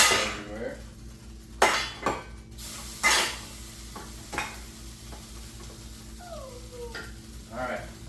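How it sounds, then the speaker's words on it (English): Beef stroganoff cooks in a pan with a soft, low sizzle, broken by several sharp clinks and scrapes of a utensil against the pan and a little faint talk. "Here's a sizzle of me spilling stuff everywhere."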